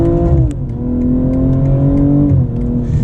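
BMW M240i xDrive accelerating hard up a highway on-ramp: a loud, steady engine note climbs in pitch, dips briefly at a gear change near the end, then pulls on with no talking.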